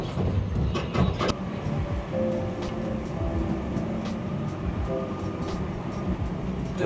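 A small tourist road train rolling through the streets of Torrevieja, heard from on board: a continuous rumbling ride with rattles and clicks, steady and fairly close throughout.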